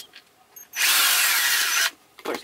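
A power drill drilling through a cap whirs in one steady burst of about a second, close and loud, after a few faint clicks and before a short scraping sound.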